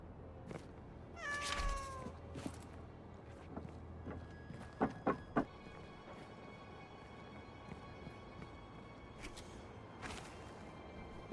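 A cat meows in the video game Indiana Jones and the Great Circle: a drawn-out mew over steady ambient game background, followed by a few sharp clip-clop knocks and fainter sounds.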